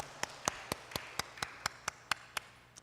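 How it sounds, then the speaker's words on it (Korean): Church congregation clapping during a Sunday worship service, heard as about eleven crisp, evenly spaced claps in a steady rhythm, fairly close, with no talking. "하나님께 영광의 박수 올려드립니다."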